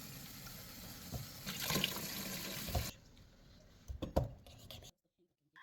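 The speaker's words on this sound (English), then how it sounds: "I gave the onions a quick rinse in water, just to make sure they're nice and clean." Running water splashes steadily into a sink while onions are rinsed for a few seconds, then cuts off, followed by a couple of soft knocks and quiet.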